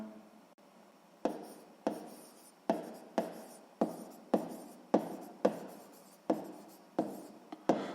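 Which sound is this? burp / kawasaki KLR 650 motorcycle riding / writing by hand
writing by hand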